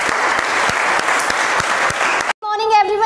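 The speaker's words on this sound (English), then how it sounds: "give a huge round of applause to Kanika" Applause from a school assembly audience at Sunrise Public School, a dense burst of clapping that cuts off abruptly near the end, followed by a brief tonal sound.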